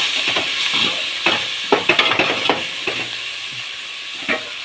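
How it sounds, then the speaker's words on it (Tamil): Tomatoes sautéing with salt in a pan give a steady close sizzle with scattered stirring scrapes and crackles, the whole running alone with no talk. "தக்காளி போட்டாச்சு. நல்லா கொஞ்சம் வதங்க விடணும்."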